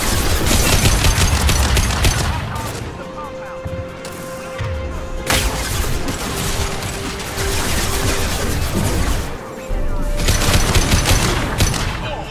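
A Mass Effect 2 firefight fills the scene with dense, loud automatic gunfire in sustained rapid bursts, broken by brief pauses and mechanical clatter.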